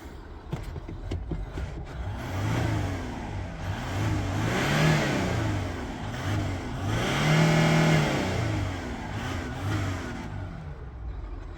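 A 2011 Ford Territory with a 2.7-litre V6 diesel revs up repeatedly, its engine note climbing and falling in two big swells over a steady idle rumble, close by and loud.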